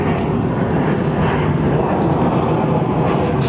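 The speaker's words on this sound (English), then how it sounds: "Dreamliner." A Boeing Dreamliner jet roars at Heathrow Airport, a loud, steady, broadband engine rumble that fills the whole stretch without letting up.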